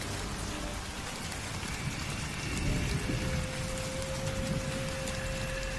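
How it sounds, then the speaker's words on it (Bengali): Heavy rain pours down at night, a dense continuous hiss of drops on surfaces that swells slightly midway, steady and enveloping with a faint tonal hum beneath. "তখনও মুষলধারে বৃষ্টি পড়ছে।"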